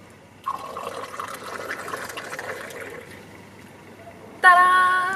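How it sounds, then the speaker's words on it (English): Moroccan tea being poured in a luxury hotel in Marrakech: a liquid stream splashes into a glass for about two and a half seconds and then tapers off. A bright ringing tone sounds near the end. "This is how the Moroccans pour the tea."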